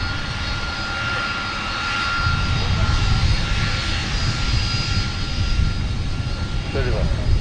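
A SkyWest jet takes off from runway 30 left at Minneapolis–Saint Paul airport, its engines a steady, loud roar that swells after the first couple of seconds and holds, broad and continuous, until the end.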